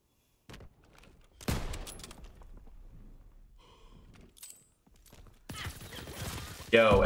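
Call of Duty WW2 gunfire in short, sharp bursts spread across the clip, with gaps of quiet between volleys and a louder cluster near the end, mixed with game noise.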